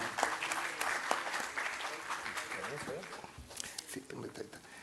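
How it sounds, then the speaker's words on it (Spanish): An audience applauds to welcome a congressman at an intellectual property judges' training program in Peru, a steady, dense clapping that fills the room for several seconds with a few louder claps. "Quisiera pues que le demos primero un aplauso de bienvenida al señor congresista"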